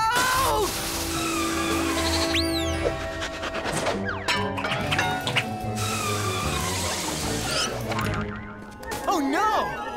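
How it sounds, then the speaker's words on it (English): Baby mountain goat in a PAW Patrol cartoon bleating on a snowy mountain, repeated wavering cries mixed with cartoon music, crashes and boings while characters talk. "A baby mountain goat is stuck on the snowy mountains."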